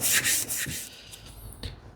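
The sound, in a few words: grinding off the edge of a vintage plane blade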